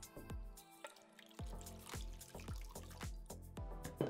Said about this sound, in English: I can pour some of the water out.